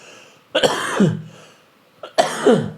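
Two harsh coughs up close, each a sharp burst trailing into a rough, throaty rasp, separated by a short pause; no talking.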